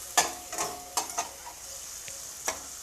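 Kuzhambu masala powder, a Sakthi brand mix, is stirred into a frying pan for tamarind kuzhambu, with several sharp spatula scrapes and taps over a soft, low sizzle, nearby and without speech.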